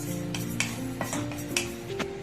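Light scraping and clinking of a spatula stirring sesame seeds in a hot pan, quiet and rhythmic, with soft background music and no talking.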